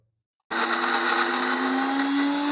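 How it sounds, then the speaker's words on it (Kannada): A mixer grinder grinding masala with water whirs loudly at a steady high pitch for about two seconds, starting and stopping abruptly. "ಒಂದು ಕಾಲು ಲೋಟ ನೀರು ಇದನ್ನು ನೈಸಾಗಿ ಮಿಕ್ಸಿ ಮಾಡ್ಕೋಬೇಕು"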